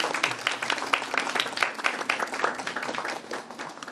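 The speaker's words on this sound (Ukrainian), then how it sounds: "Пропоную оплесками подякувати нашим воїнам за їхню посвяту." Dense, steady applause from an audience at a memorial ceremony at the Ukrainian embassy honouring those killed in war and earthquake, many hands clapping continuously at moderate volume without a break.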